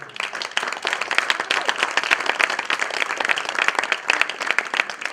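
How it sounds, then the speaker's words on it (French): Applause from the audience at a Quebec business networking event as the organizers of the day are thanked, a dense, steady round of many hands clapping that holds at even strength throughout. "j'aimerais ça qu'on fasse une belle main d'applaudissements pour ceux qui ont organisé cette journée-là"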